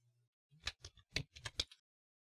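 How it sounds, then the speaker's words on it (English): Keys clatter on a computer keyboard in a short burst of about seven distinct taps, close and crisp, with silence before and after. "So if I just go down here and start typing"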